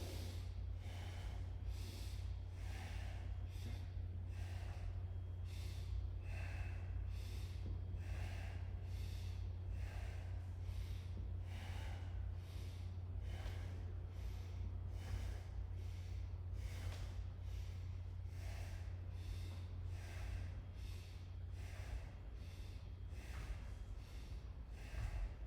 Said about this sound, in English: You're breathing in and out through the nose only.